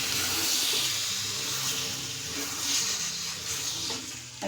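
Water hits a hot pan of dried shrimp masala cooked with chana dal, giving a loud, steady hiss and bubbling sizzle throughout with no talk.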